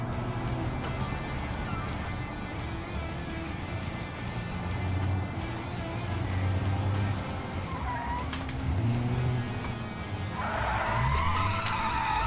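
Cars skid and spin out in a racing video game, with a steady engine drone under scraping tire noise that swells and fades and ends in a brighter squeal.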